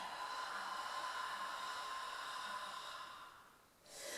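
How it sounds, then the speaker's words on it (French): A long breathy exhale through the mouth during standing yoga, a steady soft airy rush lasting several seconds that fades before a fresh intake of breath. "Expirez exceptionnellement par la bouche."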